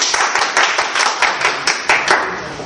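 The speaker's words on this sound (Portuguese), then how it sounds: "Palmas para Lolita!" Loud, close audience clapping for Lolita Rodrigues at a staged Brazilian television tribute, with the claps falling into a loose, pulsing rhythm that continues steadily throughout.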